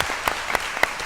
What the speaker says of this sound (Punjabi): ਜ਼ੋਰਦਾਰ ਤਾਲੀਆਂ